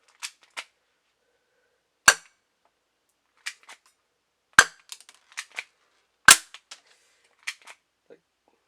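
Game Face Combat airsoft pistol fired from the hip, a series of sharp snapping pops spaced irregularly, two louder cracks standing out among lighter clicks, fairly close with no talking.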